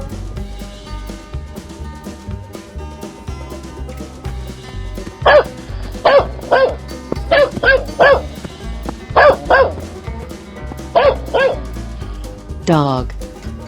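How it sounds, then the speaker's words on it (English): A dog barks in short bursts, several quick pairs and triplets of sharp yaps over a music bed, ending with a higher whining yelp. "dog"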